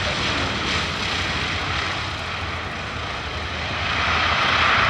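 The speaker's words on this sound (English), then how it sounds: "Completely delighted to see this aircraft here" Four-engine Breitling Super Constellation propeller airliner running its engines at Duxford airfield, a loud, steady, close droning roar with no break across the whole stretch.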